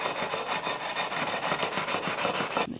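Guitar binding sanded with a 240-grit leveling beam: quick, even rasping strokes in a steady back-and-forth rhythm, close and loud, ending abruptly after about three seconds.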